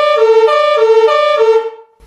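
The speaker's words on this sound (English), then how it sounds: "the QUADRASONIC DIRECTIONAL SIREN SYSTEM for emergency vehicles" A directional emergency vehicle siren at a higher urgency level, sounding close and loud, with rapid repeating rising-and-falling tones before it cuts off abruptly.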